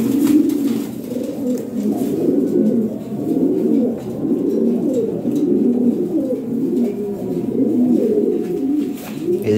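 Pigeons on offer at a pigeon sale coo continuously in low, throaty, overlapping rolls, close and fairly loud, with faint chirps and rustling in the background.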